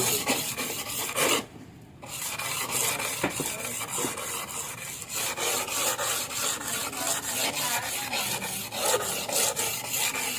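Steady rhythmic rasping of sandpaper rubbing against a metal shim for a Satria FU engine, close and continuous, with one brief pause early on.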